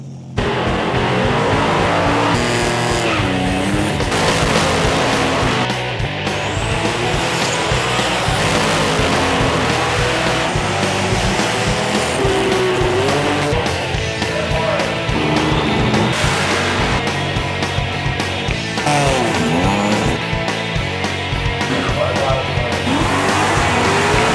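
Loud, continuous roaring engines of classic Buick drag racing cars, with revving and shifting pitch throughout, occasional squeals, and a constant dense mechanical din close by.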